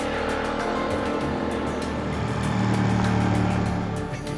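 A Ducati XDiavel S motorcycle engine runs steadily up close, a continuous deep rumble that swells slightly in loudness partway through, with no voices over it.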